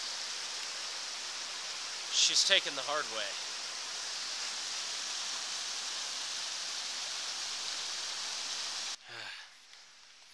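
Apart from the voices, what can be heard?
creek water flowing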